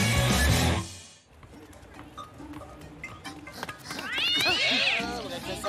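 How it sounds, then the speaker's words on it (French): Cat yowling while fighting in an animated scene: drawn-out, wavering caterwauls rise loudly toward the end, after a brief burst of voice and noise at the start. "Ah, c'est le chat, il se bagarre encore."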